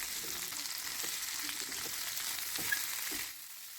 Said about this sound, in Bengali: হাই ফ্লেমেই কিন্তু ক্যাপসিকামটা রান্না করতে হবে।